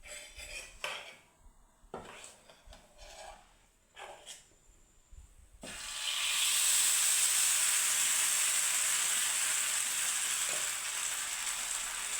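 Food sizzles loudly in hot oil in a pan, a steady bright frying hiss that sets in abruptly after several clinks and clatters of utensils and cookware, then continues unbroken and close.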